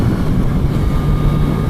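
2018 Kawasaki Z900RS motorcycle exhaust gives a steady, low rumbling roar while riding, with constant wind rush over it and no pauses.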